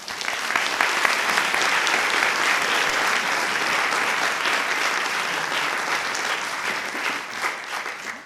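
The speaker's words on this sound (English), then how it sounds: "Let's give him one more round of applause" A large audience at an evening conversation event applauds continuously, a thick, even wash of clapping that holds strong for eight seconds before tapering slightly at the end.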